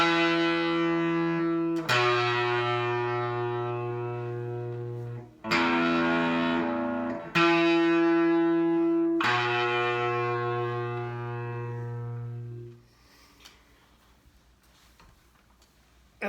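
Cheap electric guitar with no pedals playing the slow, heavy opening riff of a song: a few long sustained distorted notes, each struck and left ringing before fading out, alone.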